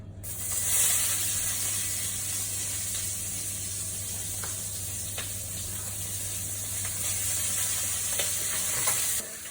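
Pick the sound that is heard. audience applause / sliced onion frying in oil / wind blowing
sliced onion frying in oil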